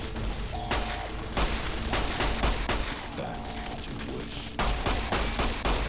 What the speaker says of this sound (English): Shot his gun out of his hand.